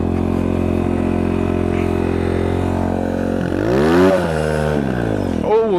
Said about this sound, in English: We had some tire spin there.